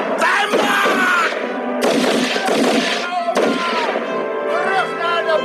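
Gunfire and artillery in a battle scene from the Indonesian war film Naga Bonar, dense bursts of shots and blasts in loud clustered volleys with brief gaps.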